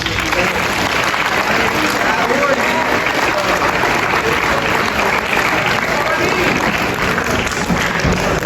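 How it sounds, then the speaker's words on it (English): Applause from a school crowd at an 8th grade celebration, a loud, continuous roar of clapping that holds steady throughout, with voices mixed into the noise. "Now let's give a round of applause"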